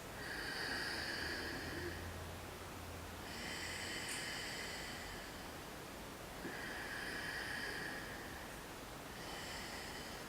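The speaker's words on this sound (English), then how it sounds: "Now that's quite clear throat breathing." Slow, deep throat breathing during a meditation demonstration: soft, hissing inhales and exhales alternate in a steady rhythm, close and quiet, with no talking.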